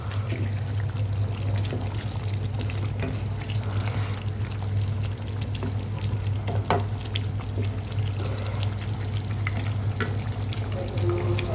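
Spicy chicken fries in a pan with a steady sizzle while it is stirred, bringing occasional scraping and clinking of the utensil over the continuous crackle; no one speaks.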